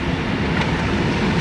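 A speeding train rushes past up close, a dense, steady rail rumble with a faint rhythmic clatter of wheels, loud and continuous with no talking.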